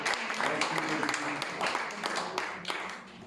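A church congregation applauds and cheers during a worship service, a steady wash of many hands clapping with voices mixed in, holding level before easing off at the end.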